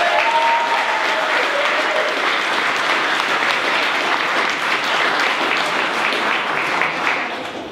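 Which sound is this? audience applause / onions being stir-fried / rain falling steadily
audience applause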